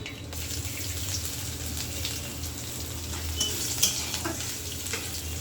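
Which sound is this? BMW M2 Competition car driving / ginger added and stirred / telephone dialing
ginger added and stirred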